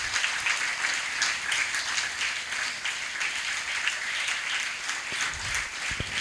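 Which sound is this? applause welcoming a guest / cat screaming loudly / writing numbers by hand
applause welcoming a guest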